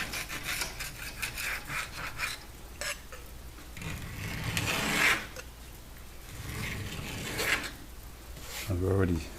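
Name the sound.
scraping loose paint off a Sub-Zero refrigerator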